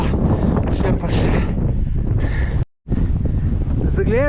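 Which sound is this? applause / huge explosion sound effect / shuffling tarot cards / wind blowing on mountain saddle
wind blowing on mountain saddle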